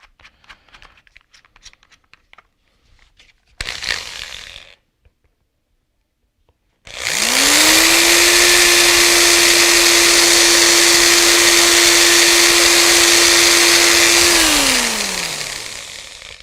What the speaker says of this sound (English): should we drill in another 2 millimeter hole first?